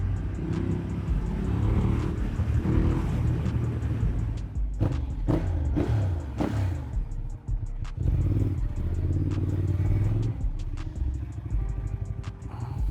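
A Ducati Diavel motorcycle rides through city traffic with a steady loud engine rumble. The throttle rises and falls, there are brief rev bursts and clatter in the middle, and the whole passage is heard up close without speech.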